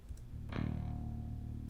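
A single open guitar string is plucked and rings out, sustaining evenly with a slightly processed, buzzy tone.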